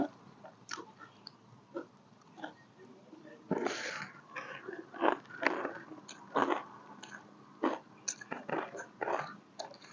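Crispy pork rinds are crunched and chewed alongside spicy papaya salad with rice noodles and fresh vegetables, giving close, steady, irregular crunching bites with faint murmurs in between.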